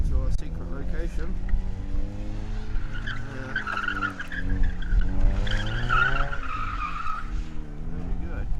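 Mazda MX-5 with a welded differential skidding, tires squealing in a long sustained wail over engine noise, with people talking throughout close by.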